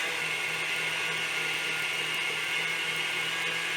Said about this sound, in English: We want to beat this on high speed until it's no longer warm and room temperature, cool to the touch.